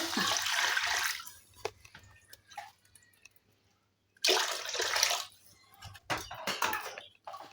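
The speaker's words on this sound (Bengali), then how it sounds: "এখন কড়াইতে দিয়ে দিব জল।" Water pours from a vessel into a karahi set over a wood-fired village stove, in two loud splashing bursts separated by quieter dripping and faint handling noises, with no talking.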